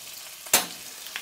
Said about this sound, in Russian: Бекон выжаривается.